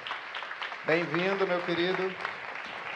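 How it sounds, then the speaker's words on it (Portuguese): Audience applause welcomes a moderator onto a panel stage, a steady clapping wash running through the clip while someone speaks a short greeting over it. "Vamos aplaudir,"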